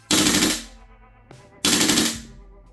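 Two loud full-auto bursts from a GHK V3 AR CO2 airsoft rifle, each about half a second of rapid gas-driven shots, with a brief quiet gap and a small click between them.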